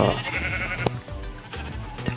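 Minecraft sheep on a game farm bleating, several short wavering bleats in quick succession, close and fairly loud, with no talk over them.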